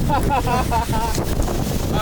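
A waterfall at Milford Sound thunders close beside a tour boat, a loud continuous roar of falling water mixed with wind buffeting the microphone while people speak over it.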